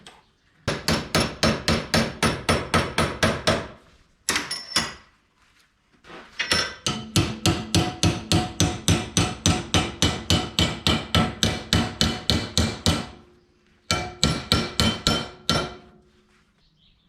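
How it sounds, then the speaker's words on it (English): A metal battery tray for a 1951 Chevrolet gets hammered in a vise, loud rapid blows in long rhythmic bursts separated by brief pauses. "it's off back to the vise and hammering and stuff"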